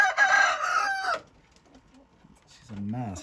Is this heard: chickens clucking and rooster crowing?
yes